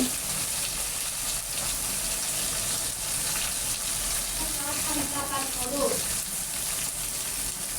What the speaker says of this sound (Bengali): সব মশলাগুলো আমি এখন ভালো করে কষিয়ে নেব